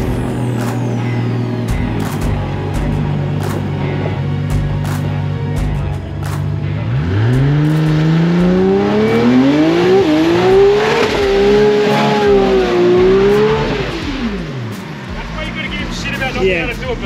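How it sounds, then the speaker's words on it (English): A 2JZ-powered Toyota Cressida street car with a big turbo revs hard and winds up into a sustained burnout, engine pitch rising and wavering loudly for several seconds while people talk over it. "To do a burnout, and then he does a good one"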